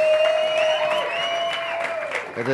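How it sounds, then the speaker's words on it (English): Brief applause from a church congregation, steady and moderately loud, with a sustained tonal line running through it. "Can we just give them a big round of applause?"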